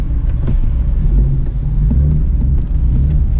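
A BMW M4 F82 fitted with an Akrapovič exhaust gives off a deep, steady rumble, close and loud, with a low throbbing tone throughout and no sharp rev peaks.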